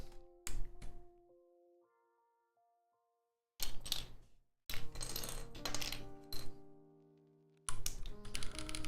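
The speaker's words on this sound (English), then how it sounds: "Let's get these keycaps on here" Keycaps being pressed onto a WindX65 mechanical keyboard, sharp plastic clacks and snaps in short bursts with brief pauses, close and crisp, plus some ringing metallic clinks.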